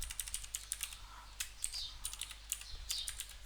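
Code being typed on a computer keyboard, a quick faint run of key clicks in short bursts, with no talking.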